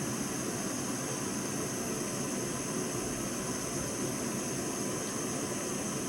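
Jetboil camp stove running at full flame, a steady, even roaring hiss that stays constant throughout, moderately quiet and close, with no voices.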